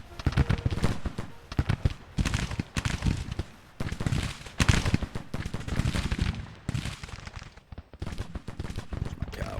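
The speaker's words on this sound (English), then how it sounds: "Our battery's firing." An artillery battery fires during a Civil War battle in a strategy video game set in the summer of 1861. Repeated booming cannon shots and crackling volleys come in irregular bursts, with distant battlefield clamor and loud, close reports.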